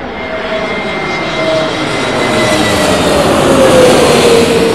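An Aer Lingus airliner in from Cork passes low overhead on arrival at Heathrow, its engines a loud, broad roar with a whining tone that swells steadily as it nears.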